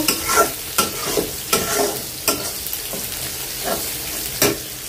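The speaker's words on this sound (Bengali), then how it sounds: "এখন হচ্ছে ভালো করে কষাই নেব।" Ground spices, turmeric and coriander among them, are stirred and sautéed in a pan for coral fish bhuna, with loud spatula scrapes every second or so over a continuous close sizzle.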